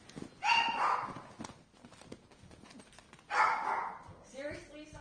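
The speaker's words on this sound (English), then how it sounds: "And I'm going to go get Suri so we can go on with the show and not listen to her barking the whole time." A dog barks in two short, loud bursts a few seconds apart, with quieter talking in between.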